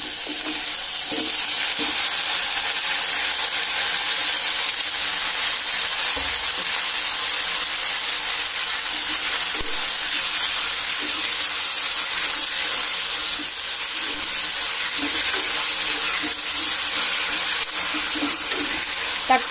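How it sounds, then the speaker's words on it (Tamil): Tomatoes sautéing in a pan with onions, a loud, dense, unbroken sizzle and hiss with faint stirring scrapes beneath, close up and steady. "தக்காளி ஒரு 2 நிமிஷத்துக்கு நல்லா வதங்கட்டும்"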